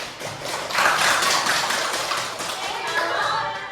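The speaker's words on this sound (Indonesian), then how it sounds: "Tepuk tangan sekalian." A classroom of tenth-grade fashion design students claps together in a steady, dense patter of hands, with voices talking over it throughout.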